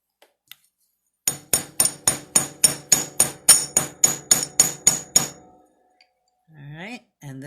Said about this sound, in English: get my bench block and chasing hammer, and I'm going to just flatten this very tip of this wire here